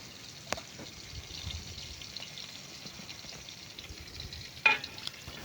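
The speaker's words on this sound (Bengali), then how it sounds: "3খানা মাছ দিয়ে ভাজছি" Three bata fish frying in an oily pan give a faint, steady sizzle close by, broken by a couple of brief knocks from the pan or utensil.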